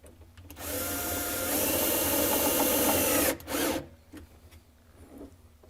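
A power drill drives a screw into wood on a Kreg workbench, whirring loudly and steadily for about two seconds before a short final burst, close up and alone.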